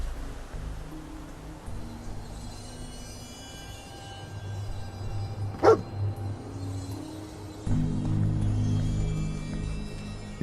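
A dog in the Fallout 4 game gives a single sharp bark midway, fairly close, over a low ambient rumble that swells louder near the end.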